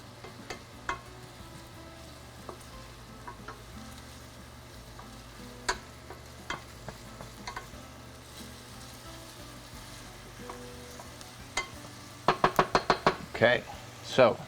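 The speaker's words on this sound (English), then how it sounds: "we are getting a little bit of a sizzle on it" Ingredients being stirred around a hot pan while preparing chiles en nogada give a low, steady sizzle with scattered scrapes and knocks of the utensil, building to a burst of clatter near the end.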